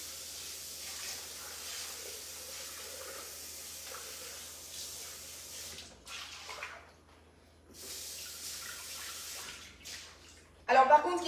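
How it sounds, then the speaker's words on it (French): Running water rinses out a Thermomix bowl in a kitchen, a steady broadband hiss that cuts off around six seconds, resumes, then ends with a brief louder splash and clatter. "Je rince juste."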